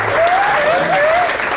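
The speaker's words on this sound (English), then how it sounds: "A round of applause, that would be fantastic." Wedding guests clap in a dense, loud burst of applause during the reception speeches, with a thin whistle-like tone sliding over the crowd.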